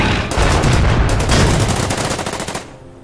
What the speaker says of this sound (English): Take a shot at that tank.